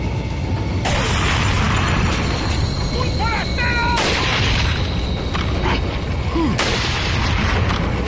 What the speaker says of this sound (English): Shot the dynamite and blew both of them up.